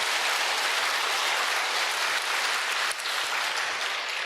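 A church congregation at a sermon applauds steadily, a dense, loud wash of many hands clapping continuously from start to finish with only a slight dip near the end.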